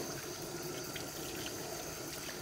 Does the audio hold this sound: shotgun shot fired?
no